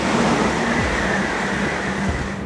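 A Shinkansen bullet train in Japan runs at speed, around 285 kilometers per hour, producing a loud, steady broadband roar with a faint tonal whine throughout, heard up close without speech.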